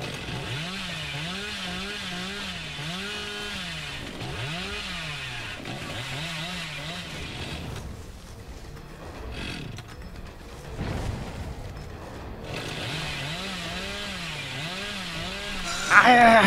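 Chainsaw revving in the horror game Dead by Daylight, a rhythmic rising-and-falling engine whine repeating in bursts, dropping out midway under game noise, then returning.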